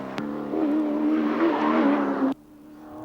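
Allan Grice's touring car on a flying lap at speed, its engine wailing loud and close for about two seconds before cutting off abruptly, leaving a faint lower hum.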